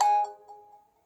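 A smartphone plays its startup chime after a factory reset: one clear bright tone that rings out and decays over about a second, alone and close.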